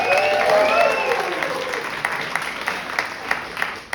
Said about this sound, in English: Clap it up if you like dogs over cats.